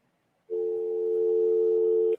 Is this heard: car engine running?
no